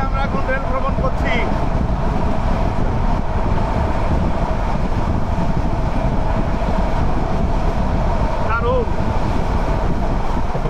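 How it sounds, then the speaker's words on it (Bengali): Passenger train rumbling steadily through hilly country on a Bangladeshi intercity route, a loud continuous rattle of wheels and carriages heard from inside, with a couple of faint squeals rising above the drone. "পাহাড়ি এলাকার মধ্যে দিয়ে আমরা এখন রেল ভ্রমণ করছি"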